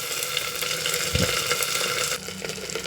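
Chillies and curry leaves fry in a pan with a steady, dense sizzling hiss, close and even throughout, and a brief low bump partway through; no talking.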